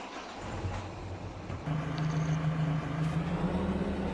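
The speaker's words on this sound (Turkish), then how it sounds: "Bekle bir marş basayım da görüyoruz." In Farming Simulator 22 a car engine is cranked and catches, then settles into a steady low idle hum with a faint whine, close and continuous, no talking.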